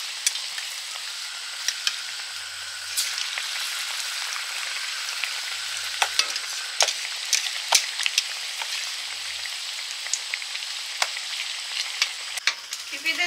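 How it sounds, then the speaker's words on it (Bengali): Eggplant fritters (beguni) fry in hot oil, a steady bright sizzle with scattered sharp pops and crackles throughout, close and continuous with no voices. "এখন আবার বেগুনি ভাজা শুরু হয়ে গেছে।"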